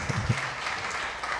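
Church congregation at a garage worship service clapping for the Lord, a steady moderate wash of applause with a few low thumps near the start.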